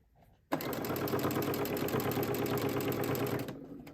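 A sewing machine stitching the hem of a cloth napkin toward a mitered corner, a loud, steady, rapid mechanical whir that starts abruptly, runs about three seconds close up, then stops.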